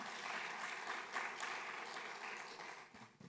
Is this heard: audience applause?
yes